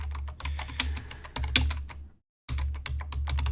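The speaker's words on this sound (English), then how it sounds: "I got to get my typing going here" Rapid typing on a computer keyboard, a dense run of close, crisp key clicks over a low steady hum, broken by one short pause before the tapping resumes.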